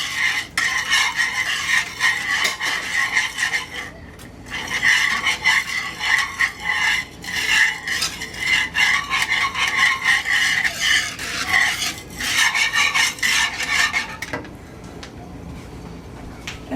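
Metal whisk scraping and rattling steadily in a pan as half and half is beaten into a cream sauce over medium heat, close and loud in rhythmic strokes with a brief pause partway through.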